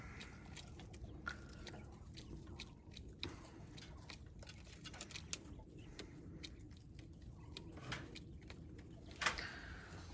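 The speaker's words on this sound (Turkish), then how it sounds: "Arkada bizim bıldırcın iş yapıyor yine." Quails in a coop at night give soft, scattered clucks and chirps, faint and intermittent over quiet pecking and rustling.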